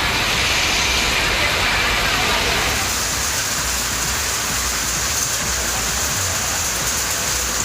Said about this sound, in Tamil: இடி மின்னலுடன் பெய்த மழையால் குளிர்ச்சியான சூழல் உருவானது.